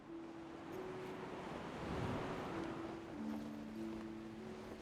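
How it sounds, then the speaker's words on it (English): Wind gusting across a high lookout in the Genshin Impact video game: a steady, loud, broad rushing roar that swells in the middle, with a thin, sustained tone running underneath. "Wow, it sure is windy up here."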